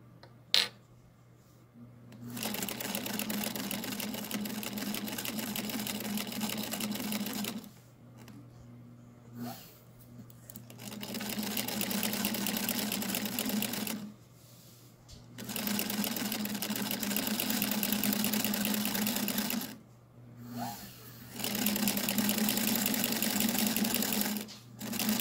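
Singer Featherweight sewing machine running with a walking foot while quilting, steady loud whirring stitch runs of several seconds each, separated by brief pauses, with a constant low hum throughout.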